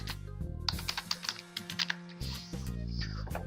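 Keys clatter on a computer keyboard in quick irregular bursts of clicks, followed by a short pause and then more typing, all over a steady tonal hum in the background.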